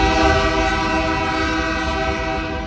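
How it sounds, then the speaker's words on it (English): A Union Pacific freight train in Eugene sounds a loud, sustained horn blast for a crossing, steady and close over the rumble of the moving train. "no less than 40 horn blasts will be heard every time a train comes through"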